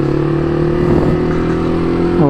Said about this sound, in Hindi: अपन बाइक यहाँ से जंप कराने वाले सीधी।